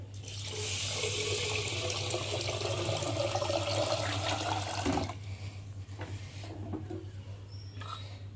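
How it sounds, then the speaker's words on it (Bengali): Water from a tap pours steadily into a drum in a home kitchen, a loud continuous gushing rush under a low hum, then cuts off abruptly, leaving faint dripping and handling noises. "ড্রামে জল দিচ্ছি"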